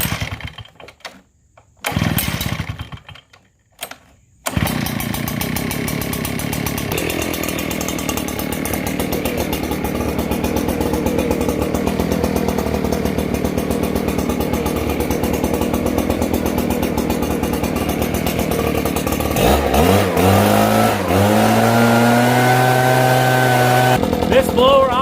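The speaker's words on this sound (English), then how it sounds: "you're going to have to put it on the ground, and you're going to have to start it up like most backpack blowers" A gas backpack leaf blower is pull-started with a few short rope yanks and sputters. It then catches and runs with a loud, steady two-stroke drone, and the engine pitch rises near the end.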